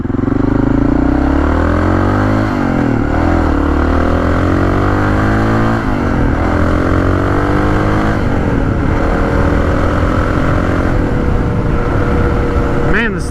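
A Honda XR650L adventure motorcycle accelerates on its first ride, engine pitch rising and falling through gear changes, loud and close over steady wind roar, without talking.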